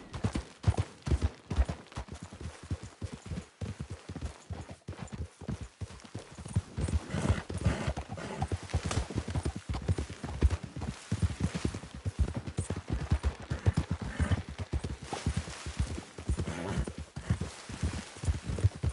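Horse hooves clip-clopping in the Red Dead Redemption 2 video game, a fast, steady galloping rhythm close by that continues throughout, with no voices.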